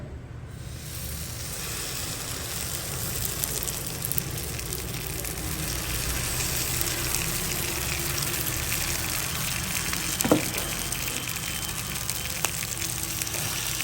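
Batter poured a little at a time onto a hot pan greased all over with ghee, giving a steady, moderately loud sizzle and watery hiss that runs throughout, with one brief sharper crackle near the end and no talking.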